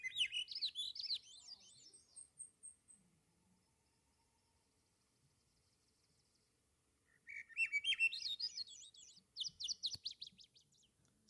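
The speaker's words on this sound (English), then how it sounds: "I'm going to play you the sound of a Swainson's thrush" Swainson's thrush song played as a recording, two bursts of rising, fluty spiralling phrases separated by a quiet gap, clear and fairly close.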